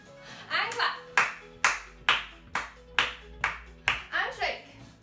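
In a creative dance class for two- to five-year-olds, a group of children claps in an even beat, roughly seven crisp, loud claps a little under a second apart, as an adult's voice gives instructions between them.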